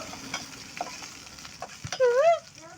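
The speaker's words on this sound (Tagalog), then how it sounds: "Mikos-mikosin na natin si sibuyas" Onion stir-fries in a pan for Filipino chicken adobo, a soft steady sizzle with scattered scrapes and clinks of stirring, ending in a brief louder burst.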